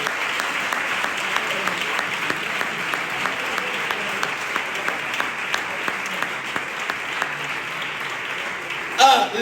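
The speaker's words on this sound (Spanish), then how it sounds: "El mejor aplauso que tengan para ellos." Steady applause from a church congregation during a worship service fills the space, a dense, even patter of many hands with a slight swell near the end.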